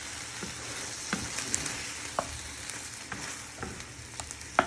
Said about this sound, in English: And you give that a little mix.